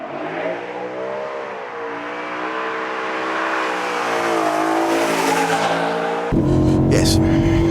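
A BMW M3 slides on a race track, engine revving hard with rising and falling tones and tire squeal as it skids, loud and close, then a sharp shift in engine note near the end.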